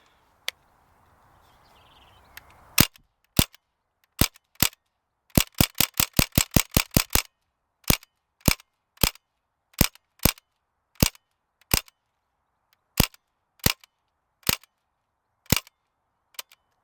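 An Umarex Legends M1A1 Thompson CO2 BB gun fires sharp, loud cracks close by, single shots and a rapid burst, spaced irregularly after a faint rustle of handling.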